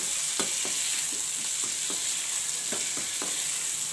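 Achari aloo (spiced potatoes) fries in a pan as garam masala is stirred in, with a steady hissing sizzle and a series of soft, regular spatula scrapes, close and with no talk.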